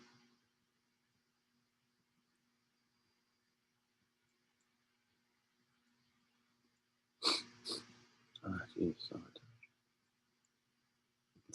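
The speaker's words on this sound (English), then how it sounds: "Sniffles, cough." A person sniffles and coughs a few times in quick succession, close and fairly loud, after a long near-silent stretch in a quiet room.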